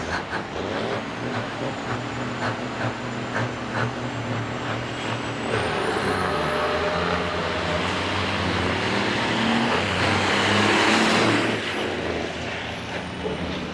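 Big rig trucks race at Onaway Speedway during a Great Lakes Big Rig Challenge uphill stage, loud diesel engines roaring and climbing in pitch with a rising whine, air brake hiss and continuous heavy-vehicle rumble throughout.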